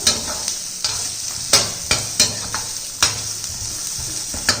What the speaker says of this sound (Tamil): இது எல்லாத்தையும் நல்லா ஒரு வதக்கிடுவோம்.